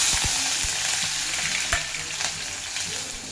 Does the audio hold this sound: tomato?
yes